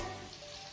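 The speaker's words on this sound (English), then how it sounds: "Salmon is nicely frying." Salmon fillets frying in a pan give a brief, faint, steady sizzling hiss with no talking.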